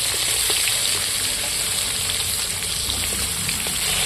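Eggplant and beans salted and coated in turmeric fry in hot oil with a steady, close sizzle that holds unbroken throughout, no voices over it.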